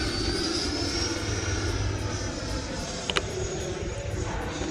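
A Horizon Hobby RC jet airplane flies an outside loop, its engine a continuous whining roar that stays loud and steady overhead, with a slowly sliding pitch and a brief click partway through.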